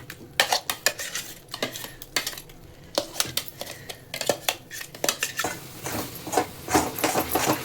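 Utensils scrape and clatter against a pan as a pineapple and coconut filling for holige is stirred, with quick irregular metallic clinks and scrapes close up, no voices.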